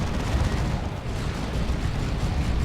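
Melter bomb blast against a Predator tank in the strategy game Dawn of War 2: Retribution, a loud sustained rumble of explosive booms and battle noise filling the whole moment, dense and continuous with no voices.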